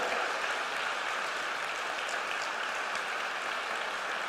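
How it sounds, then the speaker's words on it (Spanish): A church congregation claps after a sermon passage, a sustained even wash of applause at moderate distance with no clear voices over it. "Vamos a dar un aplauso a su palabra poderosa."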